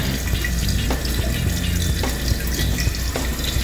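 Old Crane toilet tank refilling after a flapper repair, a loud, steady rush of running water with a few small knocks and drips.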